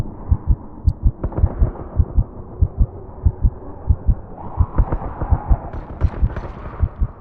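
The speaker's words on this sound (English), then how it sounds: "When health gets low, you'll hear this fainting effect achieved with delay, and some automations while the player's heartbeat speeds up" A video game low-health effect: a loud, close thumping heartbeat that speeds up while a hazy, delayed hum swells and smears behind it, creating a fainting sensation.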